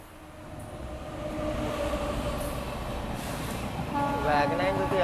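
A train on the Bangalore to Murdeshwara line via the Shiradi Ghats passes at a single-line crossing, a steady rumble of wagons that grows louder toward the end, with a faint squeal or horn rising near the close.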